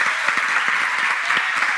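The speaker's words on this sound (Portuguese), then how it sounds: "Você pode dar um aplauso ao Senhor" A church congregation claps together in a dense, even round of applause, its rhythmic hand claps steady and fairly close throughout.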